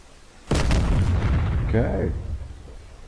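An AGM-65F Maverick missile from an AV-8B Harrier strikes a group of transport vehicles in the DCS flight simulator, setting off a sudden loud explosive boom with a long rumbling decay, heard alone.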